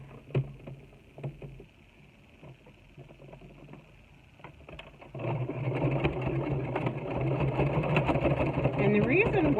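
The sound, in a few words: sewing machine sewing down a half apron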